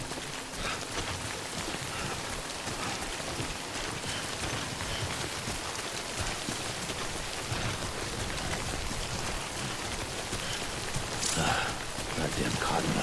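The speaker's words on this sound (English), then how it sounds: "Good thing it was raining." Steady, dense rain pours down in the Death Stranding video game, a continuous even hiss filling the whole stretch with a slightly brighter splash near the end.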